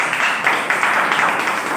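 An audience at a motivational talk event claps in a dense, steady wash of applause that holds at an even level for under two seconds.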